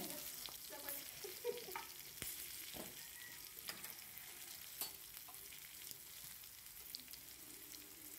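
Paneer bhurji sautéing in a pan, a faint, steady frying sizzle with light stirring scrapes and taps heard close by, quiet and free of talk.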